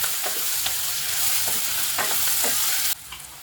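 Onion thokku with tamarind is stirred in a hot pan, with a close, steady sizzle and several scraping strokes of the spoon, and no one speaking.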